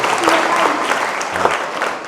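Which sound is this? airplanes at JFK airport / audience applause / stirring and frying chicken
audience applause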